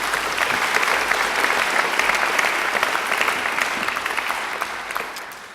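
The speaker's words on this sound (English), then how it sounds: "I think they deserve a great round of applause too." Sustained applause from a large audience at a graduation ceremony, dense and steady throughout, tapering slightly toward the end with no talking over it.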